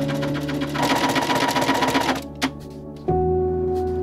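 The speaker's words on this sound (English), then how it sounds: "And then we sew up the sides." A sewing machine stitches the side seams of a suede shirt, running in a loud, close, steady whir that pauses briefly with a clack, then starts again at a lower hum; no talk.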